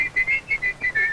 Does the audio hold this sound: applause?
no